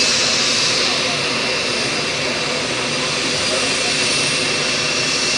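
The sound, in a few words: Embraer C390 jet aircraft engine noise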